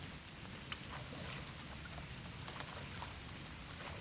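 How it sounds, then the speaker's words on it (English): Heavy rain pouring down over a swamp lake at Spanish Lake, a steady, fairly faint wash of falling drops with scattered patters and no voices. "Man, it's starting to pour down rain right now."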